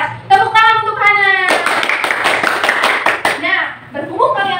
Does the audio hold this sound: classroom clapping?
yes